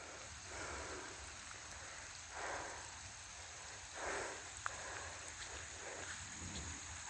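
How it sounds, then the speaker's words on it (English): Steady rain patters down with a broad, hissing wash, swelling briefly a couple of times, with a faint low rumble underneath, crickets, a nearby creek, and no voices. "Starting to rain good now,"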